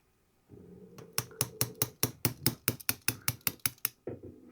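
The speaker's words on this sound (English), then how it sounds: "And just lightly tap it out." A small hammer taps a pin out of a Ruger RXM pistol through a 1/16 punch, about fourteen quick, evenly spaced light metallic clicks, close up and fairly quiet, with no talk over them.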